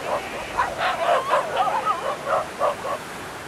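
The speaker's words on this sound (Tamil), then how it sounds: "ஒரு நாயை எத்தனை நாய் சேர்ந்து வர்த்தது பாருங்கள்" Several dogs bark and yip in quick, uneven bursts on a beach, the barking moderately near over a constant background hiss of surf.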